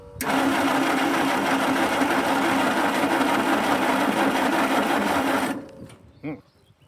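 A 1946 Jeep engine cranks with the choke out, a loud, steady mechanical whir held for about five seconds before it dies away, followed by a short sputter and a few faint knocks as things go quiet.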